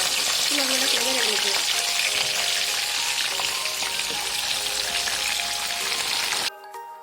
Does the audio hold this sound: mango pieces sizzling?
yes